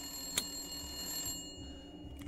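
A telephone rings inside the horror video game Resident Evil Village, a bright electronic ring heard alone over a steady tonal hum, with a sharp burst early on.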